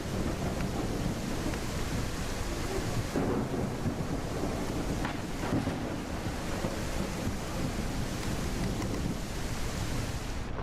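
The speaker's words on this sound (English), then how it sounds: "Here comes the thunderstorm." Thunderstorm in the Professional Ship Simulator game: a steady, loud wash of rain and wind with deep thunder rumbling throughout, swelling in a few heavier bursts, heard alone without any voices.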